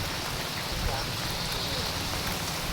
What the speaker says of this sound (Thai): บรรยากาศฝนตกฝนดินเอา